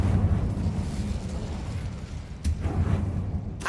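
Incendio fire spell blasts in the video game Hogwarts Legacy come as a rumbling, explosive roar with sharp bursts partway through and again near the end.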